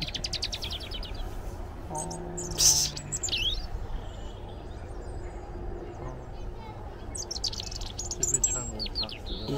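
Tame robins at Twycross Zoo sing in bright, thin bursts of chirps and trills, close by, with faint background noise and people talking softly in between.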